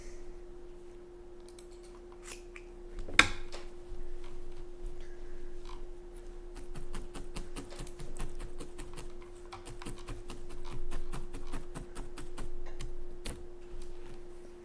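Scissors snip through felt in a quick, uneven run of crisp clicks, close and fairly quiet, after a sharper knock near the start.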